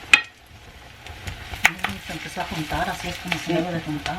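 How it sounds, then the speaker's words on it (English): Tomatoes frying in a hot pan, a steady sizzle with sharp clinks and stirring scrapes that grow busier as the food moves, close up with no speech. "we're going to add the tomatoes in here and get those fried up as well"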